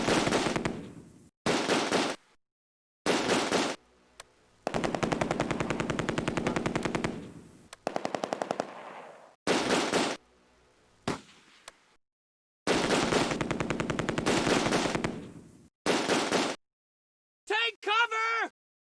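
Repeated long bursts of machine gun fire in the Close Combat: A Bridge Too Far wartime strategy game, loud and close, stopping and starting with brief gaps, ending in a short clip of shouted voice.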